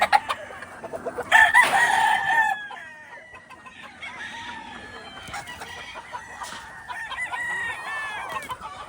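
Roosters crow repeatedly over scattered clucking from chickens in a breeding pen of White Kelso and crossbred pullets, with one loud nearby crow standing out early and other birds calling more softly behind it.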